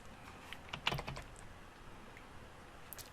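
Keys on a computer keyboard click as a short message is typed, a quick cluster of close taps near the start followed by a few sparse, fainter keystrokes.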